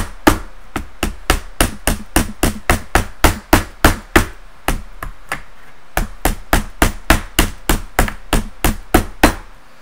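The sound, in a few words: claw hammer folding over a metal edge of an alcohol stove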